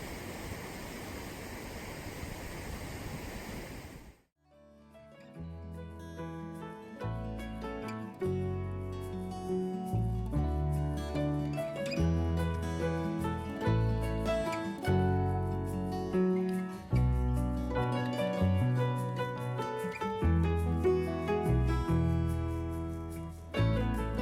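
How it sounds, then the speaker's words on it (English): Water rushes into a canal lock on the Leicestershire Ring through opened gate paddles. The loud, dense roar lasts only the first few seconds, then cuts off and music plays for the rest. "Look at the sheer volume and force of the water as we opened the gate paddles to fill the lock."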